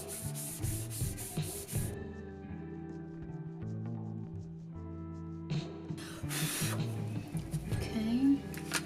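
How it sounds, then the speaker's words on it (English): Wood is rubbed with 150-grit sandpaper in brisk back-and-forth strokes, with quick raspy bursts at the start and again later, separated by a quieter stretch. "Sand with the direction of the wood grain."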